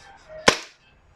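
A single sharp crack as a WE Beretta M92 airsoft pistol fires one BB, a brief loud snap with a short decay in a quiet setting.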